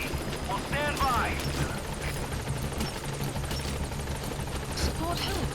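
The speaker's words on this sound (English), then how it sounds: "Support helicopter has arrived." A support helicopter arrives in the video game Metal Gear Solid V. Its rotor thrum stays steady and fairly loud throughout, mixed with in-game effects and bits of radio-like voice chatter.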